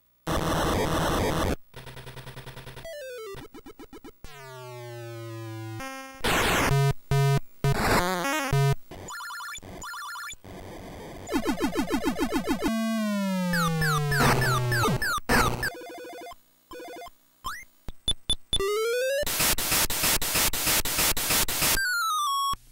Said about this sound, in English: TI games utilize sequences of sounds to produce some fun and interesting effects.